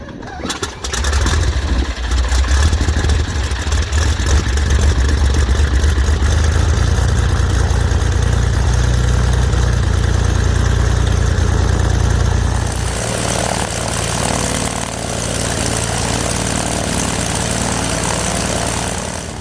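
A Saab Safir light aircraft's piston engine idles with its propeller turning, loud and close, a steady low throb that first sounds rough on four cylinders and then settles into a smoother, fuller six-cylinder idle.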